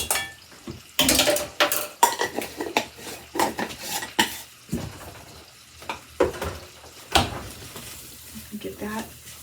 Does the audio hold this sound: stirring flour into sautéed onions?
yes